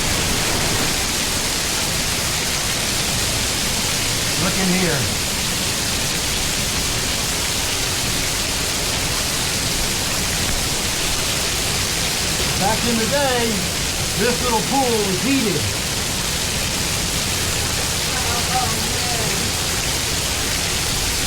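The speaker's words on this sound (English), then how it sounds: "We're gonna go behind the waterfall." A waterfall at Green River Gorge heard from behind the falling water, a loud, unbroken broadband roar filling the whole space while people talk over it.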